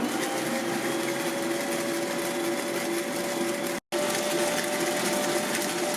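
A Bosch Universal Plus stand mixer creaming butter and sugar on speed 1, a steady mechanical motor whine with a constant tone, running without pause except for a momentary dropout.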